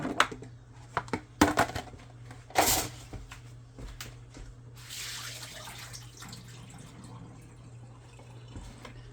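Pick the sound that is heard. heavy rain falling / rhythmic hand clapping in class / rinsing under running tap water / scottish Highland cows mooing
rinsing under running tap water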